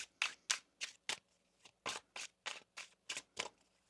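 Tarot cards are riffled and shuffled in a quick, regular series of crisp bursts, close and clear, with no voices.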